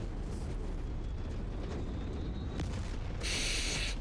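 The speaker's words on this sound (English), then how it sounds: "I love the smell of helicopter explosions in the morning." A helicopter blows up in MechWarrior 5: Mercenaries combat, a heavy rumbling blast with dense low roar sustained throughout, a sharp crack midway and a bright hissing burst near the end.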